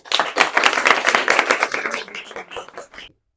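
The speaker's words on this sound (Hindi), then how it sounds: "इसके लिए तालियां बजाइए।" Students in a group clap together, a brisk, fairly close burst of many hands that keeps up for about three seconds, thins out toward the end and then stops.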